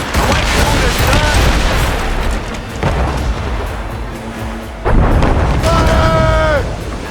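Ship cannons firing in the game Assassin's Creed Rogue, heavy booming blasts over a dense rumbling battle din, loud and continuous, with shouted voices mixed in.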